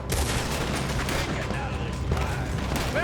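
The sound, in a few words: gunfire in Red Dead Redemption 2 video game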